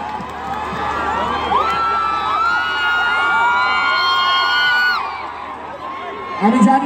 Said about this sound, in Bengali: একবার নিজেদের জন্য একটু জোরে হাততালি please. You round of applause for yourself.